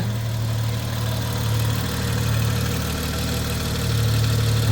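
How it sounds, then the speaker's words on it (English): A BMW 435i with the N55 engine idling after an oil pan gasket replacement, a steady low hum with a constant even drone, close and unbroken, no voices. "Engine is running, we have oil."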